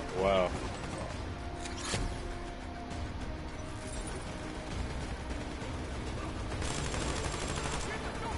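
Rapid gunfire from a first-person shooter video game, bursts of shots running through the stretch under a player's voice talking over them.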